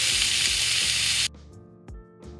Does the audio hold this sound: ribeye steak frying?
yes